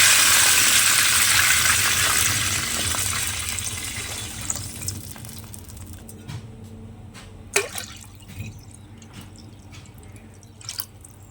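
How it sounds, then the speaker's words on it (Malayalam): Water poured into a pot for biryani rice: a strong rushing gush at first that gradually tapers off, leaving quieter drips and occasional splashes and knocks. "രണ്ട് കപ്പ് വെള്ളം ഒഴിച്ച് വെക്കുന്നു"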